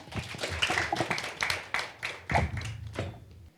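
Audience applause at a Korean civic-education talk show as a university student panelist is introduced: scattered, moderately quiet clapping with uneven taps over about three seconds in a hall.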